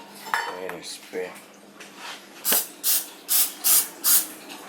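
Shaken can of cooking spray in a home kitchen while prepping Thanksgiving food: a rattle of the can, then five rhythmic, loud, short hissing bursts of spray, close up.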